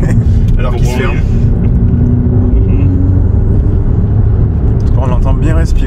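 A turbocharged car engine drones steadily under nearby talk, with a continuous low rumble and occasional whooshing breaths as the turbo works.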